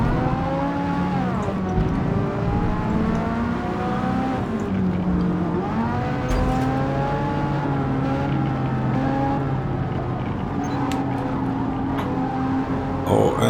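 Honda NSX-R mid-engine race car in Forza Motorsport, its engine loud and continuous with rising and falling revs through gear changes and cornering, amid other cars racing nearby.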